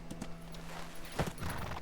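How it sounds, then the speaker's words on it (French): Horse hooves clip-clop in the video game A Plague Tale: Innocence, a few distinct hoof strikes near the start and a louder cluster later, with a faint game tone humming underneath. "Ah, on est en cheval."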